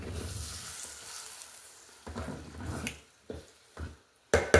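Chili being stirred in a pot, with soft sizzling and a few scraping, clattering stirs coming in short bursts, close and fairly quiet with no talking.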